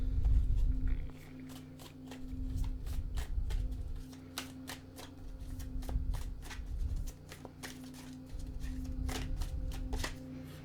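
A deck of tarot cards is shuffled by hand nearby, in repeated bursts of quick riffling flicks separated by short pauses, fairly quiet over a faint steady hum.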